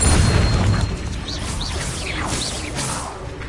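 A Confringo blast spell goes off in the Hogwarts Legacy video game, a loud low boom at the start that rolls into crackling debris and whooshing effects, with short chirping magical flourishes over the decaying rumble.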